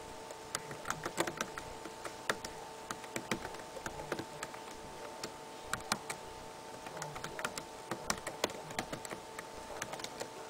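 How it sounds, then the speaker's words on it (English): Steady keyboard typing on a computer, a quick run of soft clicking keystrokes with short pauses, close and moderately quiet over a faint background hum. "let me just type it in."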